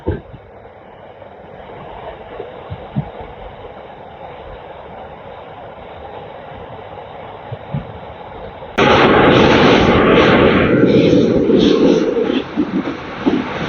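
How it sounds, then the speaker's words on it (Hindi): A passenger train near Giridih on the Giridih–Madhupur line, first a faint rumble, then a sudden loud close roar of wheels and wind as it runs fast on the tracks, continuing to the end. "हमारी ट्रेन गिरिडीह से निकलते ही क्या रफ्तार पकड़ लिए"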